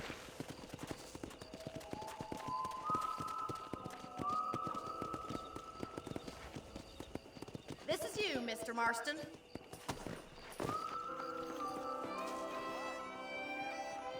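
Horse hooves clip-clopping in the Red Dead Redemption video game, a steady rhythmic trot of hoofbeats running throughout under spoken dialogue, with a brief whinny partway through.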